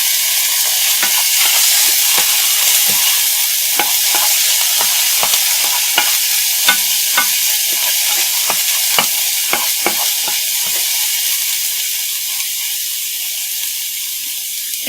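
Minced garlic sizzles steadily in a hot pan with a loud, constant frying hiss, broken now and then by light scraping taps from stirring.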